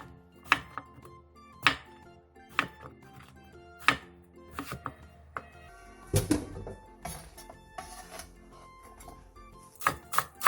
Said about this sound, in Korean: 가지 3개를 2cm 정도 두께로 잘라주세요.